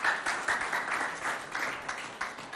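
An audience at a school event applauds a pupil, a moderately faint, steady patter of many hands clapping in quick uneven bursts.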